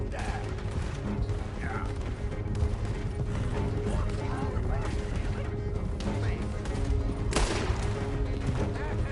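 Gunfire in a Red Dead Redemption II shootout during a stagecoach robbery, dense overlapping shots and mechanical clatter over game music, with a brief voice in the mix.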